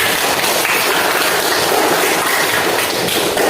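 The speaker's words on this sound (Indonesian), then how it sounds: "Beri aplaus dulu untuk kita semua" Applause from a group at the close of a class session, loud, dense and continuous clapping held steady from start to finish with no voices over it.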